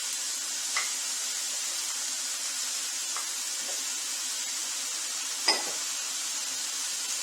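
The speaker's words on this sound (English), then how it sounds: "Now the tomatoes are heating up" Tomatoes heat in a pan for butter chicken, giving a constant close hiss of sizzling with a few faint clicks and one brief sharper crackle partway through.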